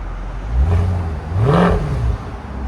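A 2008 Mercedes S63 with a 6.3L V8 and a resonator-delete exhaust revs loud and close, its deep rumble climbing in two throttle blips before settling back.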